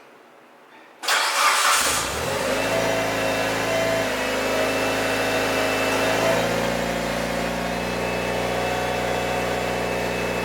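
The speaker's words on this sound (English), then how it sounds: "Let's go ahead and start the Evo 9 MR" A Mitsubishi Evo 9 MR with a 4G63 engine, HKS and Megan test pipe and Megan downpipe cranks briefly and fires up loud and close, then settles into a steady, rumbling idle with no talk.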